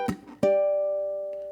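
A ukulele plays a short phrase from a Disney-inspired tune: a couple of quick plucked notes, then a ringing chord that decays slowly, quiet and close.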